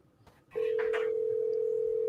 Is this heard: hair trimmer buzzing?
no